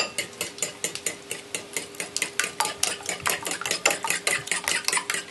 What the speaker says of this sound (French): Il me faut une fourchette pour les battre rapidement